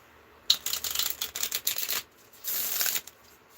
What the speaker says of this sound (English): I'm gonna shuffle and pull one